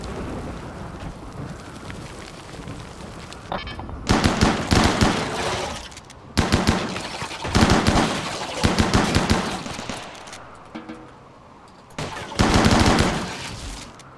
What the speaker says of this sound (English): the turret did its job, although I had it there for pirates, not for insects